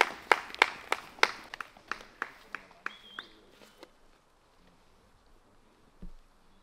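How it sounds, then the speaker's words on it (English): Scattered hand claps from spectators at a disc golf tournament, a burst of sharp claps that thins out and fades to quiet after a few seconds. "Crowd's going wild"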